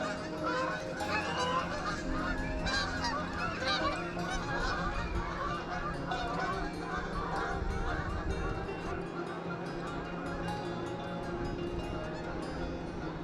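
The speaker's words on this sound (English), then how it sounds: "Dan set the camera up on top of the camper, and got some birds." Birds call at a campground near Melvern Outlet, heard from atop a camper: a busy chorus of honking geese-like calls, dense and continuous, near and far, with no talk.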